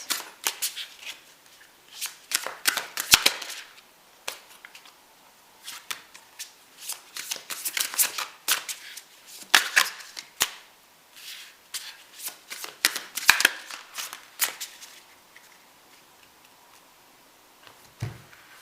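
Tarot cards shuffled by hand in a quiet room, with bursts of crisp riffling and flapping that repeat in irregular runs, close and alone.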